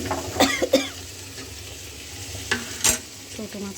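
Whole chilies frying in hot oil with fish, giving a quiet sizzle punctuated by a few sharp crackles and pops, two near the start and a couple more later.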